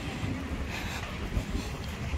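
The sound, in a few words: strong wind on a beach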